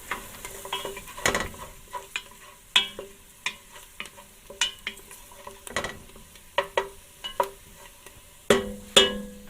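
Garlic sizzles in a hot pan while a utensil stirs it in repeated scraping strokes, each stroke a sharp clatter over a steady hiss. The strokes come at an irregular rhythm, close up, with no voices.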